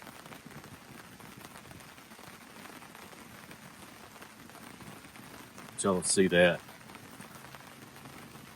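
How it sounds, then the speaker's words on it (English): Rain patters steadily on a hammock canopy during wet, stormy camping weather, a soft continuous hiss with a brief louder rustle and a voice speaking over it. "You guys might be able to hear the rain hitting the top of the canopy here."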